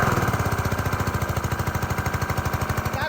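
A repaired gas pressure washer engine runs steadily nearby, a loud rapid rhythmic chugging with even pulses throughout and no talking.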